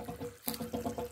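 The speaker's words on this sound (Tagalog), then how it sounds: "Dapat medyo malakas pa yung tubig eh." Water surges out of a hose fed by a non-electric pump near a river, coming in rhythmic gushes with a brief lull before the pulses resume, close and fairly soft.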